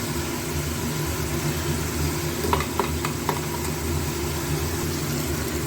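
Paste of poppy seed, white mustard and green chili frying in a pan, a steady broad sizzle with a few soft stirring clicks midway, close and continuous with no talk.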